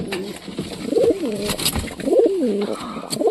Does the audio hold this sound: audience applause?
no